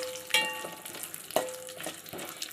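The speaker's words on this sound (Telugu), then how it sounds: "ఇప్పుడు డ్రై ఫ్రూట్స్ అన్నీ వేసేసుకోవాలి. ఇలా కొంచెం ఫ్రై అవ్వనివ్వాలి." Dried fruits and nuts fry in ghee in a pan while beetroot halwa is made, giving a steady, soft sizzle with a few louder stirring scrapes and knocks at intervals.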